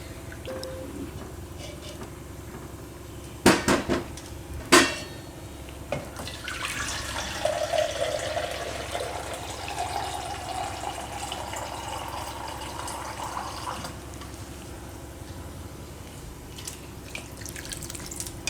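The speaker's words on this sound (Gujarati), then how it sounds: "આપણે 3 કપ જેટલું પાણી આમાં નાખ્યું." Water poured into a pan of soya nihari, about three cups, a steady splashing stream for several seconds after two sharp knocks, close and moderately loud.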